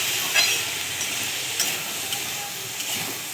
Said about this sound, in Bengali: তেলেতে সবজিগুলোকে আগে ভালো করে আমি ভেজে নিচ্ছি, যাতে এই সবজির গন্ধগুলো না থাকে।